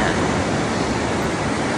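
Ocean waves on a beach in Tenerife produce a continuous broad roar of surf mixed with wind buffeting the microphone, loud and steady for the whole short stretch.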